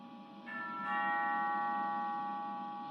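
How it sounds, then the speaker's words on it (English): An intercom doorbell on a reality TV show rings with a sustained electronic two-part chime, the second tone entering just after the first and ringing on steadily, clear and fairly loud over a low room hum. "She's got the intercom doorbell."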